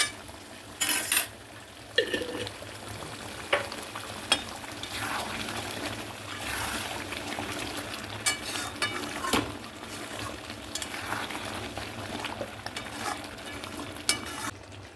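Chicken resala cooking in ghee in a pan gives a steady soft sizzle, with close stirring scrapes and occasional clinks of a utensil against the pan throughout.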